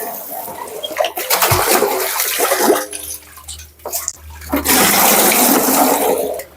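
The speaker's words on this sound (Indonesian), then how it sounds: "Sementara kita nimba saja dulu guys." Well water being drawn by hand with a bucket at a home duck-rearing yard, with splashing and pouring water rushing in bursts, loud and close, pausing briefly between pours.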